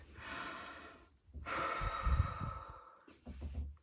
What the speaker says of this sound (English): Take a deep breath with me, Pisces.